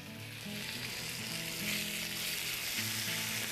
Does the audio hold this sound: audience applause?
no